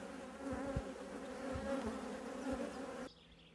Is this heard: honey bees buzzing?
yes